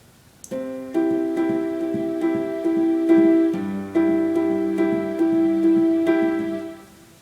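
Piano plays a repeating chord pattern in 7/8 time, steady struck chords in uneven groupings with sustained ringing tones, alone and fairly loud.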